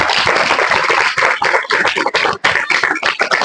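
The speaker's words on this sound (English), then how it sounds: "Clap for all of you." Students at a school debate break into applause, a loud, dense, sustained burst of many hands clapping close by, filling the whole stretch with brief dips.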